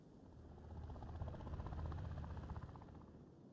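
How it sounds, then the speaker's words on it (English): A helicopter departing in the Arena Breakout video game, a steady rotor drone that swells in the middle and then fades gradually, fairly quiet and heard alone. "Oh, the helicopter left"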